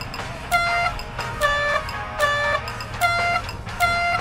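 Fans at a hockey game in a video game blow honking horns in a short chanted pattern of upper and middle honks, five loud tonal toots in rhythm with sharp attacks, no talking.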